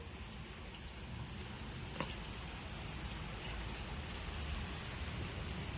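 Dense, steady rain from a big storm roars as broad noise with a low windy rumble beneath, constant and enveloping, with no talk.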